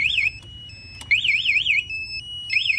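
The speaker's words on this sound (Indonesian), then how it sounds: "itu untuk alarm kunci kontak dan alarm mode diam atau silent ya" An aftermarket MP 2 Way alarm module fitted to a Yamaha NMax scooter sounds loud, close warbling siren bursts that alternate with steady tones and brief clicks.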